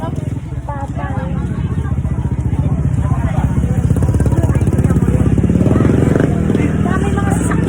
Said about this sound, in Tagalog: Dami mga sasakyan din dito, guys. Mga motor, ganyan.